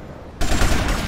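Loud, sudden burst of rapid gunfire in Grand Theft Auto: Vice City Stories, starting abruptly after a brief quiet moment and continuing as dense, close shots.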